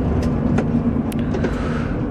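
Car engine pulling steadily with a low droning hum after a gear change on a driving lesson in city traffic, continuous and fairly loud with no talk over it.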